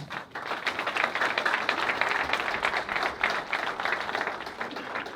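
Audience applause at a Congolese political youth gathering as members of the Union Sacrée are named, a dense, steady wash of many hands clapping throughout, moderately loud with no clear pauses.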